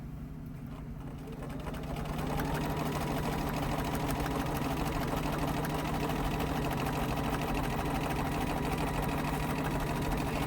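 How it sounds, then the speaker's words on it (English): A home sewing machine stitching a quarter-inch seam runs steadily and continuously after a brief quieter start, a close, even mechanical whir with rapid needle clatter throughout. "put it under the machine, and we're going to finish sewing a 1/4 inch all the way down."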